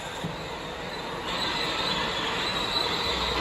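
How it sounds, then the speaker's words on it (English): An amusement park ride train rolls to a stop, its wheels squealing and grinding along the rails in a steady, fairly loud rumble that swells slightly toward the end, with no talking. "Once your train has come to a full and complete stop."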